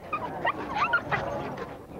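Dogs yipping and barking amid a crowd of about 1,800 dogs walking together in New York City's Central Park, scattered fairly faint barks and whimpers over a steady outdoor murmur.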